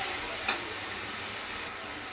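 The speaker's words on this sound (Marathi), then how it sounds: "कांदा चांगला परतून घेऊया" Finely chopped onion and curry leaves sauté in a pan with a faint, steady sizzling hiss and a light stirring scrape partway through.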